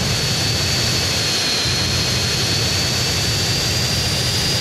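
A Hydra military jet in GTA San Andreas roars with a steady, loud, continuous engine whine and rumble that stays constant throughout, with no speech.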